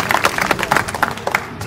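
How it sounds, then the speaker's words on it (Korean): An audience applauding a visiting 72-year-old professor at a Korean river performance event, a brisk, dense run of many hands clapping close by, without speech. "큰 박수로 부탁합니다."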